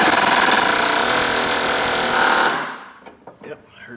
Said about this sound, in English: Get the air hammer, see if we can just knock that joint loose.